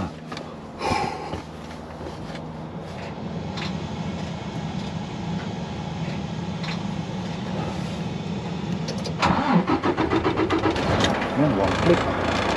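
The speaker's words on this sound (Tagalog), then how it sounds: "Start ko muna ang truck natin" On a cold morning a truck engine cranks and catches, then settles into a rough, steady running rumble near the end. People talk throughout.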